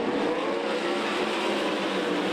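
Sprint car engines at the 53rd Knoxville Nationals finals in 2013 drone steadily in a continuous, even racing roar heard from some distance, with no break or talk.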